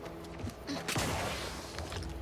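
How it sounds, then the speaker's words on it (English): In The Outer Worlds 2, a thruster activation fires with a sharp gunshot-like crack followed by a decaying whoosh. It sounds once, fairly loud, over quieter game ambience. "Sounds like a gunshot whenever I use it"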